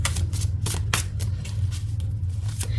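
Tarot cards being shuffled by hand, a close, continuous riffling and flicking with sharper snaps at irregular intervals, no voice over it.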